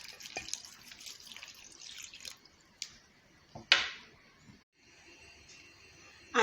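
Water poured from a glass into a pot of orange peel, soft splashing and dripping in short bursts with brief quiet gaps, close and faint.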